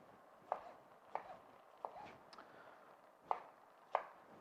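Knife chopping strawberries on a cutting board during a cooking demonstration, five sharp, fairly faint knocks spaced irregularly about half a second apart over quiet room background.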